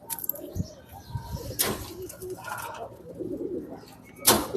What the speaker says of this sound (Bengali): এটাও একটা নর কবুতর